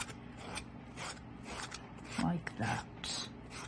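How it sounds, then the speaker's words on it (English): Short scratchy sanding strokes repeat in a loose rhythm close by, rounding the corner of a polymer clay cane from the top down, with a voice speaking briefly between them. "I'm sanding from top down, just trying to round it out a bit"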